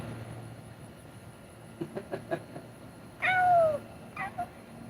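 A person imitates a cat with one drawn-out, rising-then-falling meow, preceded by a few soft knocks and followed by a shorter vocal sound, all fairly close in a quiet room.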